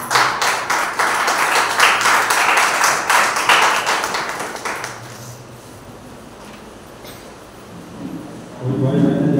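A church congregation at a Sunday service bursts into loud, rapid applause for about five seconds before it fades into quieter room sound, with a tonal swell at the very end.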